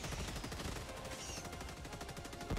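Walking barrage artillery stratagem in Helldivers 2 hammering away as a dense, loud stream of rapid explosive thuds and cracks that fills the whole short stretch without pause.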